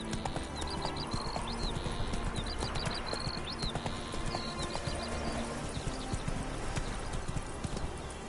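Roach, Geralt's horse in The Witcher 3, trots along with steady rhythmic hoof clip-clops under a busy, noisy game background, with faint high chirps overhead.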